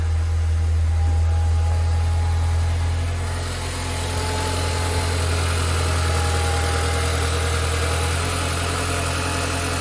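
A Mini Cooper R50/R53 engine idles steadily with a deep hum and vibration while its electric power steering pump draws fluid, a constant close drone with a faint whine above it.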